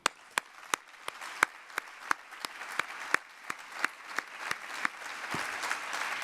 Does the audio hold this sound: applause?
yes